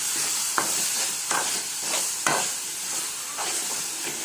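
Grated carrots for carrot halwa are stirred in a pan over a flame, a continuous sizzle and hiss broken by a few scraping strokes of the spoon at an unhurried rhythm.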